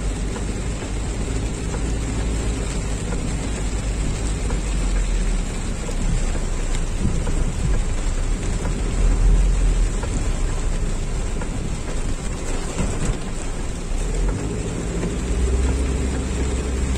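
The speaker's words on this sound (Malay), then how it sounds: "Hujan tak berhenti" Heavy rain falls in a steady, dense wash that never lets up, with low rumbles rolling underneath that could be distant thunder; no one speaks.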